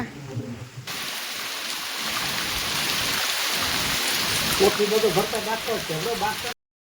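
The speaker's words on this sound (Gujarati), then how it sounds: "તડાકા ભડાકા સાથે વરસાદ ચાલુ થઈ ગયો છે" Heavy rain on a farm during groundnut sowing, a loud dense roar of downpour with deep thunder rumbling beneath, continuing steadily until an abrupt cut.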